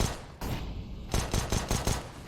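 Pistol shots ring out in a Counter-Strike: Global Offensive match, a sharp crack at the start, then a rapid cluster of five or six close, loud reports in the last second, with game ambience between.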